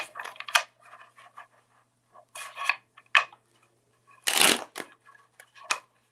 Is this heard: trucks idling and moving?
no